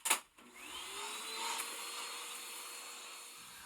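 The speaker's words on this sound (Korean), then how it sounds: "앞치마를 두른 아줌마가 청소기를 들고 와서 윙윙 소리를 내며 청소했어요" Vacuum cleaner whirring steadily as a woman in an apron cleans, in a storybook scene; a sharp brief knock opens, then a continuous hum with a rising whine holds at moderate level to the end.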